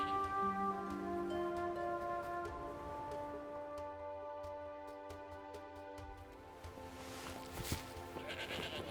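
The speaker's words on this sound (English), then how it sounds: "Looks like some sort of murderous demon. Nope, just a sheep." A sheep in the video game Forspoken bleats repeatedly over a steady bed of layered game music and ambient tones, with no talk.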